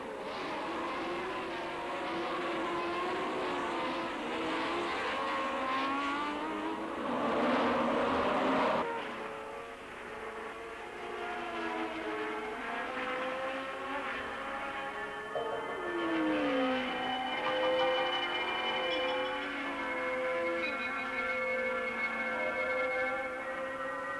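1973 Formula 1 race cars scream past in turn, high engine notes rising and falling with doppler sweeps, several cars in succession, fairly loud and unbroken across the whole stretch with no talk.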